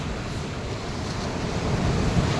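Ocean surf rolls in steadily at Marina Beach in Chennai, a broad continuous wash of breaking waves with wind buffeting the microphone, building slightly louder toward the end with no talking.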